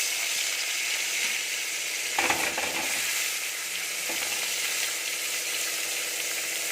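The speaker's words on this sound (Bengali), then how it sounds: "মাছটা আগে একটু হালকা করে ভেজে নেব।" Small fish pieces frying in hot oil with nigella seeds, a dense steady sizzle throughout with a brief louder crackle and spatter midway, close and alone.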